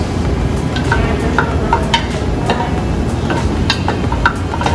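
Paprika and garlic marinade with canola oil stirred by hand in a bowl, a steady run of light scraping and clinking strokes, close and moderately loud with no talk.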